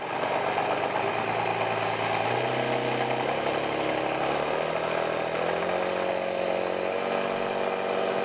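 A brushless synchronous motor driven through two switching bridges runs steadily and winds up in speed, its whining tones stepping and gliding upward over about eight seconds, loud and close with no voices.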